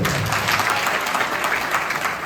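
A school audience at a youth dialogue event in Rajkot claps loudly, dense sustained applause filling the whole short stretch without a break.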